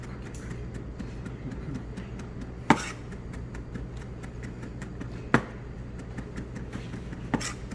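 A knife chops steadily on a cutting board, finely mincing ingredients for a doenjang-sauce grilled pork jowl dish. The cuts fall in an even rapid rhythm, with a few louder knocks at intervals under a quiet room hum.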